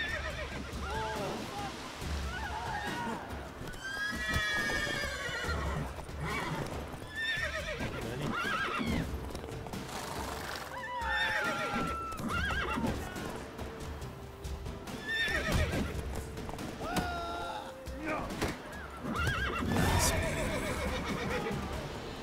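A horse in The Witcher 3 neighs and whinnies repeatedly, mixed with clip-clop hoofbeats and scuffling kicks, with game sounds around it and a person talking at times.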